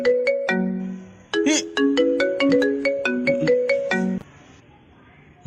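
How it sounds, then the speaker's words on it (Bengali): A mobile phone ringtone plays a bright, repeating electronic melody of clear tones, loud and close, before cutting off. "তোর বৌদির ফোন এলো।"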